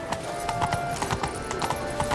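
Geralt's horse Roach gallops in The Witcher 3, with steady rapid clip-clop hoofbeats that run close and loud over a constant background hum, without any voices.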